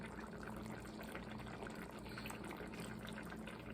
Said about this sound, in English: not the whole thing will come out when you pour it out